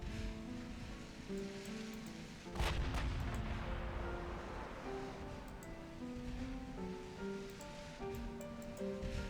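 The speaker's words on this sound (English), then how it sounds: "One last high explosive salvo before going back to 8." Naval high-explosive salvo in the Ultimate Admiral Dreadnoughts warship game: a sharp boom at mid-clip rolls into a sustained rumble, set against a steady bed of ocean surf and a tonal music drone.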